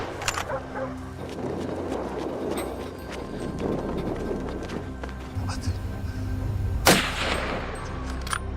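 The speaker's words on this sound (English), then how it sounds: "After a volley of gunfire," During a wild boar hunt in a corn field, one sharp gunshot cracks out near the end, while talk and bird calls run through the background.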